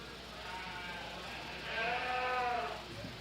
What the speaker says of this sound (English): The first and second place lightweight, both Sophia Lorch's sheep